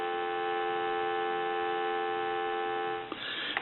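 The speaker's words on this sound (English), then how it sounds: "I want to give you some dial tone." Steady telephone dial tone on a converted Kellogg wooden wall crank phone, a constant hum-like tone held for about three seconds before a click and brief rustle break it near the end.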